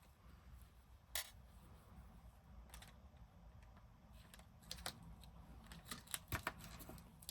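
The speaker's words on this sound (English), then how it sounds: "I'll just trim that from there. I'll trim it to size when I'm ready." Scissors snipping material to size in a quiet room, a few sharp isolated cuts spaced apart, growing more frequent toward the end, close and fairly faint.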